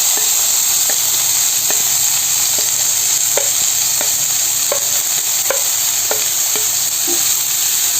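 Chopped spinach fries with dried red chillies in a hot pan for a Kerala-style spinach curry. A steady loud sizzle runs throughout, with a regular series of spoon scrapes and taps while it is stirred. No one speaks.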